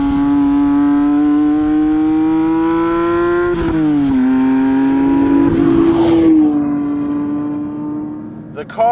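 A Porsche 911 GT3 Touring's engine revs steadily and loud and close, the pitch dipping briefly before settling into a sustained drone, with a short burst of throttle near the end.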